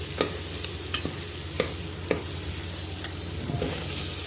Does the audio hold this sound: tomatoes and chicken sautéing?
yes